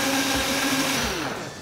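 A powerful Vitamix blender whirs steadily up close as it churns watermelon into a frozen slushy, a loud continuous motor drone with slight wavering as the load shifts.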